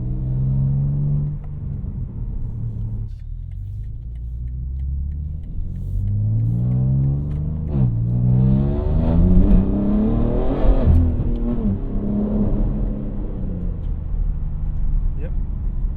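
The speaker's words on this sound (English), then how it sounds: "everyone wants to hear how this thing sounds with the valves open" A BMW G80 M3 Competition with its exhaust valves open revs hard from inside the cabin, recorded in binaural POV; the engine note climbs and falls in several loud, rising sweeps over a steady rumble.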